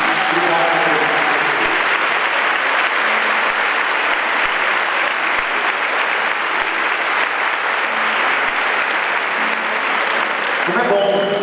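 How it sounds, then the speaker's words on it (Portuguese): A church congregation claps together during a homily, a dense, steady round of applause that fills the room for about eleven seconds, loud and continuous before it tapers off at the very end. "Queria uma salva de palmas a eles aqui."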